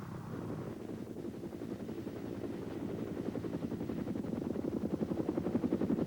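Steady rotor thumping of military helicopters, growing louder and more pronounced with rapid chopping pulses toward the end, no voices.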